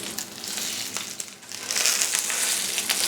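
Steak searing in a hot pan for a carnivore steak-and-eggs breakfast, a steady bright sizzle with crackling spits, swelling louder midway and staying close and continuous.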